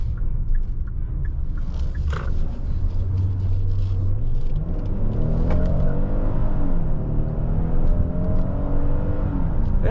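A 2024 Hyundai Palisade Limited three-row SUV accelerates from inside the cabin, with a steady engine rumble and whir that rises in pitch as the revs climb, heard alone without talk.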